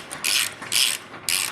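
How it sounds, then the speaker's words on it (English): A tie bar being tightened on a large steel welding table gives three loud, close ratcheting clicks in a steady rhythm, with no voices. "If we start tightening up this tie bar, you can see"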